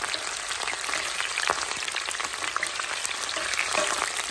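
Onion fries in hot oil for a ranch-style mole, a dense steady sizzle with fine popping crackles, close and continuous with no talking.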